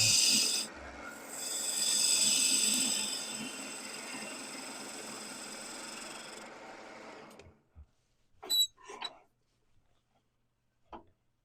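A sharp bowl gouge cuts into a spinning log on a wood lathe, giving a rough, rasping scrape that swells and holds for several seconds. It then stops, leaving a few brief knocks and scrapes in near silence.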